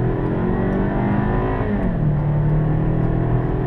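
A Hyundai Sonata's engine pulls hard in first gear, its droning pitch rising and then dropping as it revs, loud and close with no talking.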